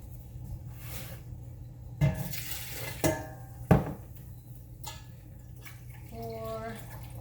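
Vinegar poured into a measuring cup in a home kitchen while pickled beets are being made, with liquid splashing and glass and utensil clinks under talking.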